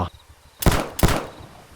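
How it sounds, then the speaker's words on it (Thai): Two sharp cracks go off about a third of a second apart, like cap gun shots, against a faint background hiss. "เสียงปืนแก๊ปดังสนั่นวันไหวขึ้นพร้อมกันสองนัด"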